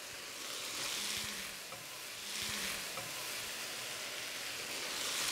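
Onion hitting a hot wok and frying, a steady broad sizzle throughout with a couple of faint low clanks of stirring, fairly loud and continuous with no talk.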